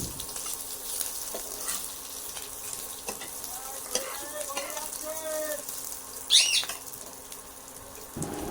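Chana dal frying in a pan as a little water goes in, a constant soft sizzle with scraping stirring strokes and a brief sharp hiss near the end.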